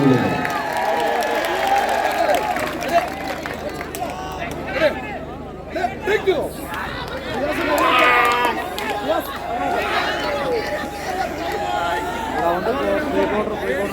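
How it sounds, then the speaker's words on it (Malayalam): A crowd at a state championship sports match between Yuvashakti Kallunira Kuttiyadi and Star Vision Arts & Sports claps and cheers amid steady crowd babble, while an announcer speaks loudly over it. "ആ കൂട്ടുകാരന് തന്നെയാകട്ടെ നിങ്ങളുടെ ഏറ്റവും വലിയൊരു കയ്യടി"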